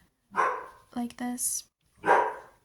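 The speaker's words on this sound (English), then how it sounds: "Excuse the dog." A pet dog barks indoors close by, with one sharp bark, a quick double bark and one last bark, loud and clear against silence, while a person speaks briefly at the start.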